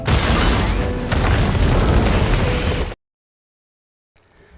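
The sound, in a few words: bomb explosion in a building, film sound effect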